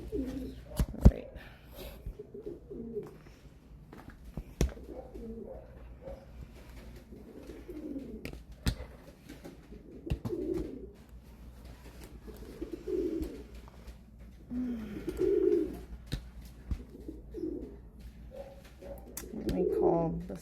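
A pet bird coos indoors at night in repeated soft, low phrases spaced every few seconds, fairly close and alone in a quiet room.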